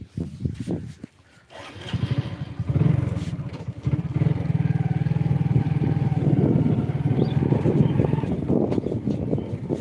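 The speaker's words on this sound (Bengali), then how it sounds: "এখন বাইকের মধ্যে" A motorcycle engine hums steadily as the bike rides along, with rumbling road noise and wind buffeting the microphone.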